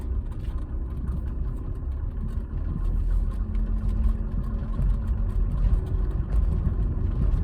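Car engine pulling steadily on a racing circuit, a deep, fairly muffled drone heard from inside, rising slightly in intensity as it accelerates.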